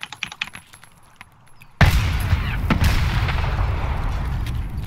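Grenades going off in a first-person shooter video game: sparse clicks and taps, then one loud close blast that rolls into a sustained rumbling roar with a second thump, no talk.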